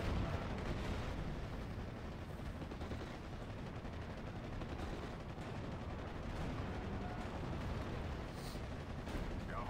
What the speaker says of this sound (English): And then my artillery just pounding away.